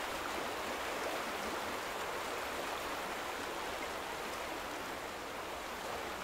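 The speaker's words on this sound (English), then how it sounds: "Did they change anything with the flow of the river?" A river flows steadily in The Vanishing of Ethan Carter, a dense, even rush of water that fills the scene without pause and with no talking.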